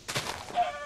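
Chicken clucking in the Minecraft video game, a short burst of a few quick, clipped clucks at moderate volume, heard alone with no talk over it.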